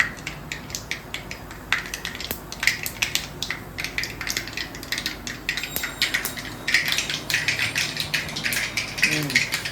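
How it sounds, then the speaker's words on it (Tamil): Mustard seeds splutter in hot oil in a home kitchen pan, giving a dense run of sharp crackling pops that keeps going for the whole stretch, fairly close and with no talk over it. "கடுகு நல்லா பொரிஞ்சிருச்சு"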